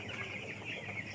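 Broiler chicks about fifteen days old on a farm, a soft overlapping chorus of clucks and peeps, fairly faint and constant with no voices.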